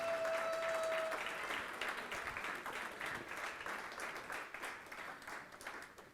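Steady applause from a gala audience at the New York Young Republican Club's annual dinner, loud at first and gradually thinning and fading over several seconds.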